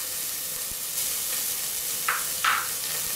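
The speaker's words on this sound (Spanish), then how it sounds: "Y ahí le agregamos lo que es el ajito picado, la cebolla, vamos a hacer el aderezo" Chopped garlic and onion frying in hot oil as the base for a Peruvian-style fish stew, a steady soft sizzle with a couple of brief louder hissing flares near the end, no talking.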